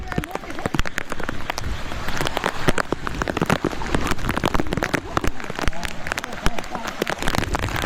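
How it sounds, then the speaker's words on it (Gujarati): Heavy rain falling outdoors during a days-long downpour, dense irregular patter of drops striking surfaces close by, loud and continuous, with faint voices underneath. "ત્રણ દીથી વરસાદ ચાલુ છે"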